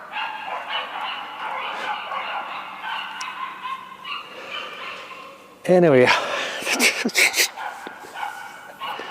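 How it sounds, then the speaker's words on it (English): Dogs fighting and barking somewhere in a supermarket's background, a sudden loud burst of snarls and yelps midway, with a person talking over ambient store noise throughout. "a dog battle happening somewhere in the background"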